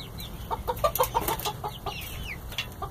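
Silkie and barred rock chickens, about five months old, cluck and chatter in a steady run of short overlapping calls, close and moderately loud, with no talking.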